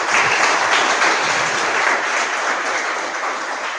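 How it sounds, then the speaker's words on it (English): Students at a lecture on medical underwriting clap together, a loud, dense burst of applause sustained evenly for a few seconds. "So I would like to give a clap for you."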